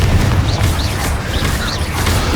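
A Confringo spell blast from the Hogwarts Legacy video game, heard as a dense, loud run of booming, crackling impact noise with a few brief whooshing swishes riding over a sustained low rumble.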